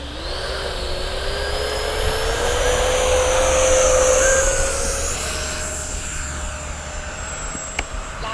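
A Freewing Hawk T1 radio-controlled model jet in Red Arrows livery takes off, its electric ducted fan whining and rising steadily in pitch as it throttles up and moves away, loud and alone.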